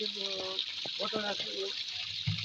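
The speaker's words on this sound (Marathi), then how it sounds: "आता हे जे पाणी चालू आहे" Borewell water gushes steadily from a village supply pipeline in a continuous hissing rush while a person talks over it.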